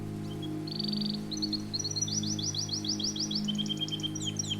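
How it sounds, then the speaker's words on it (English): A night bird singing softly outside: a thin, high series of quick chirps and trilled notes, rising and repeating for several seconds over a steady low hum, faint and alone without voices. "Outside, a night bird sings softly in thanks."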